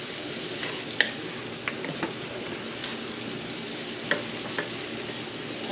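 Diced garlic frying in a pan for bacon jam while being stirred continuously, a soft steady sizzle with scattered scraping clicks from the utensil, close and fairly quiet, no voices.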